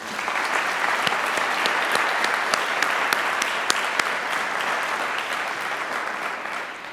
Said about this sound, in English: Let me suggest a round of applause for all of these contributors.